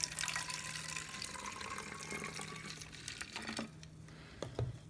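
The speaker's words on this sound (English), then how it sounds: "In goes some water." Water pours steadily into a bottle holding a dissolving cleaner tube, a continuous close trickle that fades slightly toward the end with a small clink.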